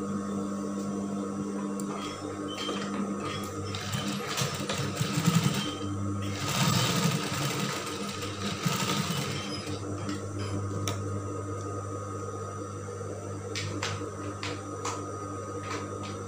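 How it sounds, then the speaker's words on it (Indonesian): A sewing machine stitches woven outer-garment fabric, a steady close mechanical whir with quieter pauses and light clicks, running mostly alone. "lalu jahit"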